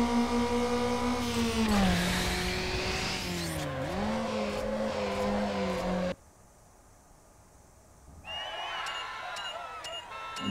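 Game car from Need for Speed Underground drifting through a highway curve, engine droning with a rising and falling pitch and tire squeal, cutting out abruptly partway, then returning with a revving whine and light clicks near the end.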